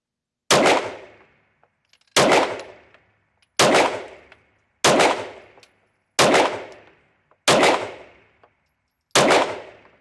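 Seven loud, sharp shots from an Arex Alpha 9mm competition pistol, fired one at a time at a steady pace about every second and a half, each cracking close and ringing out briefly.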